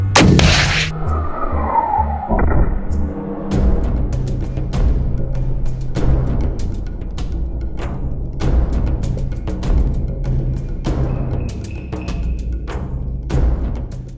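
RPG grenade launchers fired at a tank on a range: a loud close blast followed by a long booming echo, then a run of sharp distant impacts and cracks.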